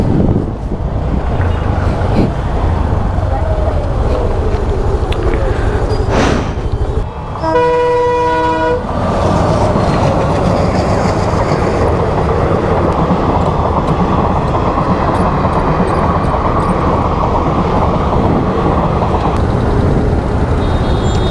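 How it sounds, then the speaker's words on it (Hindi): Train passing close by on a South Indian route, a loud steady rumble of wagons with a sustained horn blast partway through, amid strong wind noise. "चलो ट्रेन चली गई।"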